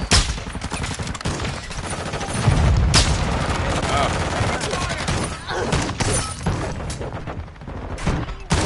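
A frag grenade blast and rolling gunfire in the Modern Warfare 2 video game, dense and loud throughout, with a heavier burst near the middle and a voice briefly audible underneath.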